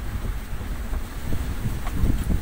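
Strong wind gusts buffet the microphone aboard a sailboat at sea, a steady low roar with surging peaks and faint water sounds, no voices.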